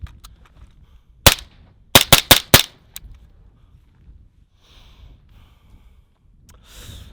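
Suppressed rifle shots through a Surefire RC3 silencer: one sharp muffled crack, then a quick string of four shots and a fainter fifth, close and loud, followed by quiet outdoor ambience and faint breathing.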